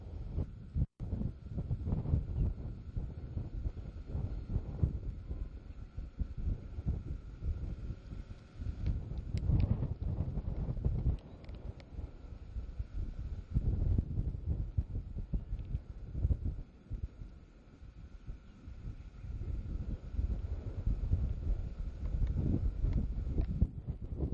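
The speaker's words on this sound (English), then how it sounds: "Pretty windy up here." Gusty wind buffets the microphone in low, rumbling bursts that rise and fall continuously throughout.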